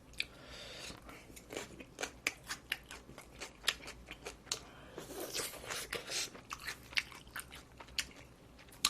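Crunchy chewing and biting from a cup ramen mukbang, close to the mic, with rapid irregular crunches and sharp bites repeating throughout and no talking.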